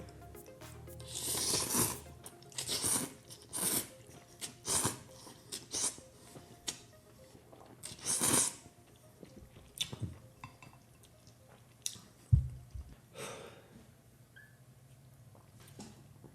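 Thin, straight Ichiran instant noodles in broth being bitten and chewed close to the mic, with a run of soft, wet squishy chews and slurps arriving in irregular bursts, plus one sharp knock near the end.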